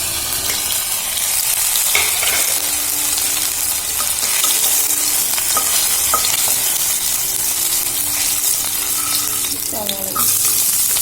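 A spoonful of ginger fries in hot oil for wheat upma, crackling loudly and steadily up close while a spoon repeatedly scrapes and stirs the pan, with faint clinks throughout.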